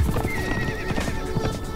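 A horse in the video game Conan Exiles whinnies loudly and up close, accompanied by rapid clip-clopping hoofbeats throughout the short clip.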